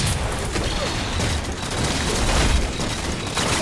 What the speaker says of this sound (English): getting a kill there with a bolt shot